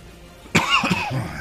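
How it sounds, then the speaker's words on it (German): A single sharp, close cough bursts out, followed by a couple of rougher, throat-clearing coughs that trail off, with no words spoken. "Einmal gut gehustet ist immer super."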